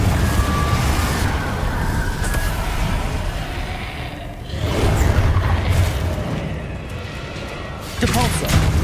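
A Confringo blasting spell explodes in Hogwarts Legacy amid other spell effects, booming and rumbling under a busy, continuous mix of game sounds, with a fresh burst near the end.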